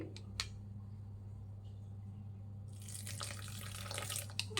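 Milk poured into soft bun dough, a quiet liquid trickle and splash that swells near the end, with faint clicks and a low hum behind it, no voices.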